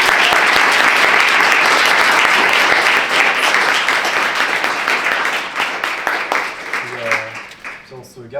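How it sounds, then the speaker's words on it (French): Audience clapping loudly and densely at a talk on Montreal's nightlife, the ovation fading over the last seconds as a voice begins to speak. "J'aimerais qu'on les applaudisse bien fort."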